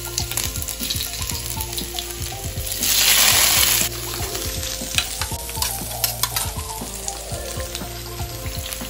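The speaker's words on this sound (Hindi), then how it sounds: "अभी मैं इसमें डालने वाली हूँ अदरक और हरी मिर्ची कटी हुई है।" Chopped ginger and green chili frying in hot oil in a wok: close, lively sizzling with scraping stirs and clinks, and a brief surge of hissing as the ingredients hit the oil, no voices.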